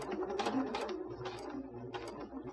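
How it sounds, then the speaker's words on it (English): A sewing machine runs a line of stitches through the fabric of a 3D face mask. The motor whirs steadily for a few seconds, with fast mechanical clicking on top and no talking. "you're going to be sewing a line that is parallel to the line that you have already created"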